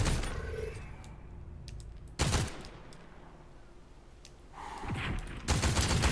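Short bursts of rapid gunfire from an assault rifle in an online battle-royale shooter, two loud clusters of shots a few seconds apart over a low background hum, no talk.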